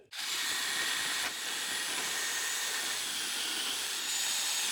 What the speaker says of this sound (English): So I'm just gonna use a portable bandsaw to cut this.